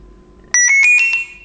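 Carpsounder AGEone receiver switching on with a rapid burst of five bright electronic beeps, loud and close in a quiet room.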